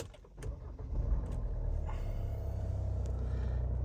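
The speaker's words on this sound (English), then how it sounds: "Now we'll hop in the driver's seat here for you and start it up." A 2018 Kia Sorento Si 4x4 wagon starting up: a brief starter crank, then the engine catches and settles into a steady low idle rumble heard from the driver's seat.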